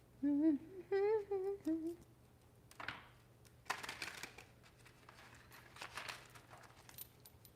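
After a brief sung vocal sound, a deck of cards is shuffled in quick riffling bursts, crisp and close, repeating for several seconds.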